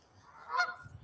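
A Canada goose gives a single short honk outdoors in Victoria, Canada, faint and at moderate distance.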